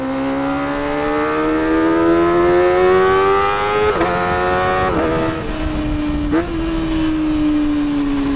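Kawasaki ZX-25R fitted with an aftermarket exhaust revs up close and loud, its pitch climbing steadily over several seconds before a few sharp blips and drops, with a round, smooth tone and no rasp.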